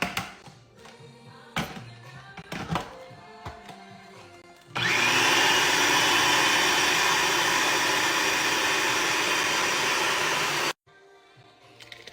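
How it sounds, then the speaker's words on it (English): A blender purees lentil soup, a loud, steady motor whir starting abruptly and running about six seconds before cutting off, with kitchen clatter before and after. "put it in a food processor or blender and blend it and kind of like puree it"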